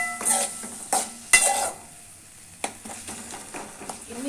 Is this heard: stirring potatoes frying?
yes